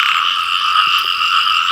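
Frogs croak continuously and loudly at close range, a dense, steady chorus with no pause across the whole stretch, heard during a night outing to catch frogs.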